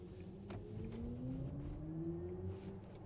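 A 2022 BMW iX electric SUV accelerating hard, heard as a faint rising motor whine climbing steadily in pitch over road and wind rumble, with no talking.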